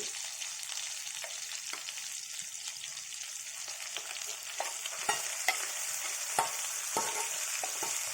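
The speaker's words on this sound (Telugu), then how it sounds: "అలా కారం అంతా వేసేసి కలిపేసాం" Chilli powder mixture for an ivy gourd onion-chilli curry is stirred in a hot pan, a soft continuous sizzle broken by sharp scraping strokes of the spoon that grow more frequent toward the end.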